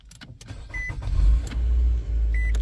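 A 2014 Nissan Altima starts by push button: a short starter whir gives way to a low, steady engine idle close by, with two brief electronic beeps.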